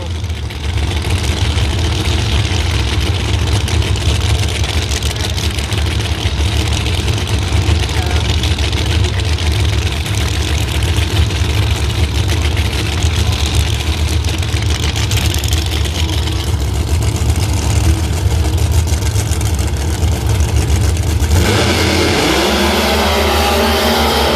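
Two Pro Mod drag racing cars at the U.S. Nationals idle with a loud, steady, deep rumble for a long stretch, then erupt into a sudden roar as they launch; an announcer talks over the engines.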